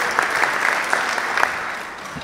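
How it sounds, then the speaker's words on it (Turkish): An audience at a mayors' summit applauds the moderator, a dense round of clapping with a few sharper claps standing out, steady and fairly close, without speech. "Duygu Hanım'ı alkışlayalım bence."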